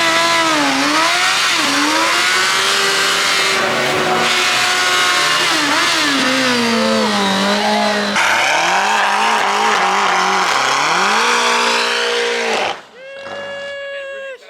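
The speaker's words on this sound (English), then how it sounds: "Burnout! Swing it!" A car doing a burnout at a car meet on new tires, its engine revving hard in rising and falling surges with squealing tires, loud and close before cutting off abruptly.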